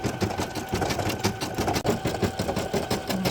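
A Brother PE800 embroidery machine stitching an appliqué design onto a birthday sweatshirt, giving a fast, steady mechanical whir of rapid needle strokes throughout, close and fairly loud, with no voices.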